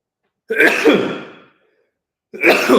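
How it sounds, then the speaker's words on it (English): Two close, sharp sneezes from one person, each a sudden explosive burst that tails off, separated by about a second of silence. "If you want my proof, I'm going to sneeze."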